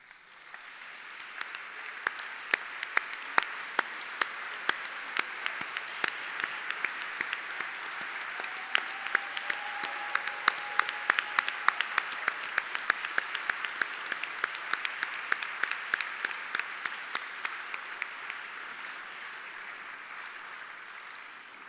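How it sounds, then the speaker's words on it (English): A ceremony audience at the Aurora Prize event on Ellis Island breaks into sustained applause, a dense wash of clapping that builds and holds for about twenty seconds, then slowly thins. "Applause is great."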